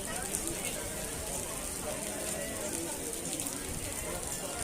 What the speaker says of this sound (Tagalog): Kasi ang lakas ng ulan.